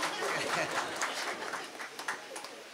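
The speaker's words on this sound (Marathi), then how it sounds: "पंगत म्हटल्यावर पोरांनीच टाळी वाजवली." Boys in a gathered crowd at a village kirtan in Panmandwadi, Kadus break into brief scattered hand-clapping, fairly close, with loose crowd murmur underneath.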